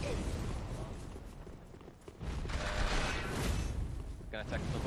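Bomb blast in Dark Souls 3 during a 2v2 tournament match, a loud, dense rumbling burst that swells midway and sustains under busy game noise.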